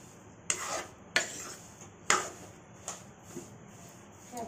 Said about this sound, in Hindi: इसलिए इसको अच्छे से चलाते हुए भूनना है